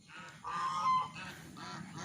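Several close, loud honks from a goose on an agricultural engineering faculty campus form a short series of nasal calls, with no speech over them.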